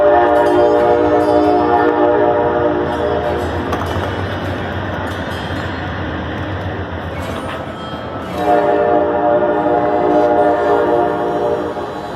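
Steady rumbling of the Coast Starlight passenger train departing Oakland, with sustained horn-like tones, a loud continuous roar that briefly dips and then swells again.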